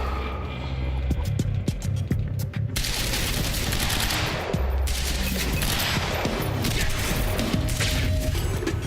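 Suppressing gunfire from the action game Quantum Break: dense, rapid bursts of shots rattle continuously for several seconds, loud and near, with crashing impacts mixed into the sustained barrage. No voices.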